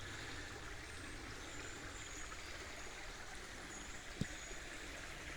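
A shallow stream runs over stones near an old abandoned railroad line, a faint, steady hiss and trickle with one small knock partway through.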